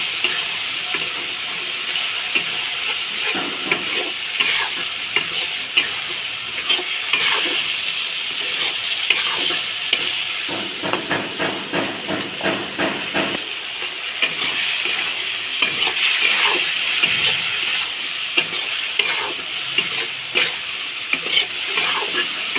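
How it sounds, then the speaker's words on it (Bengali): Spices stir-fried in a pan, with a continuous close sizzle under repeated scraping and stirring strokes, some quick rhythmic bursts in the middle, and no talking. "মশলাগুলো ভালোভাবে কষিয়ে নেব।"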